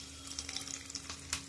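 Curry leaves and green chillies crackle in hot oil for a brief moment, a soft, close spatter of small pops and fizz, faint and without speech.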